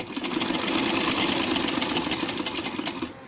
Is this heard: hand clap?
no